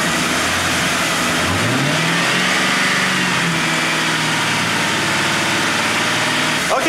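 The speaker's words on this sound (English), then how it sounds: "rev the engine to 1500 to 2000 RPMs" A car engine idles and then revs to 1500 to 2000 RPM during an alternator test, the pitch climbing and holding steady before settling, with a constant broadband rumble throughout.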